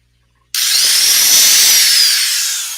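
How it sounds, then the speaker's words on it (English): A power drill with a worn bit drives into a pilot hole, a loud, steady high-pitched whine that starts abruptly and holds for over two seconds, easing slightly at the end, with no talk over it. "Yeah, that drill bit definitely needs replaced."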